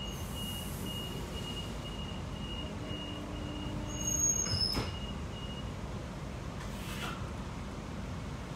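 Steady rumble of a Brisbane suburban train departing a station, with a faint high squeal and a couple of brief electronic beeps, moderately distant.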